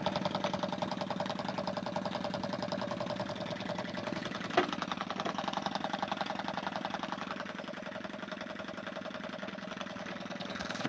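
An old trammer's engine runs steadily with a rapid rhythmic knock and mechanical clatter, close and continuous, with a single sharp tap partway through.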